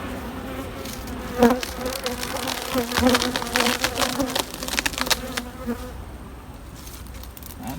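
Honeybees at an open hive buzz loudly and close, a swarming drone with individual insects whirring past, swelling in the middle then thinning out.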